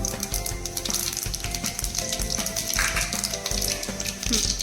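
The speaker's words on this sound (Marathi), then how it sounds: "मोहरी तडतडा लागली की त्यात लसूण" Mustard and cumin seeds crackle and sizzle in hot oil for an udid dal tempering, a dense, steady frying hiss with rapid popping ticks, close and continuous with no voices.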